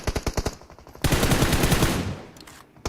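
Gunfire in a PUBG Mobile match: a quick burst of close automatic shots, then a loud sustained roar of fire and impact noise that fades over about a second, with no voice over it.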